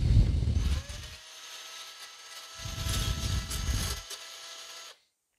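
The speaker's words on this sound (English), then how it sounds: "Right, just give this a light hone." A drill-driven hone works inside the cylinder bore of a 50cc engine with a steady, grinding whir. Two louder, low rumbling passes sit over a continuous mechanical drone that stops abruptly at the end.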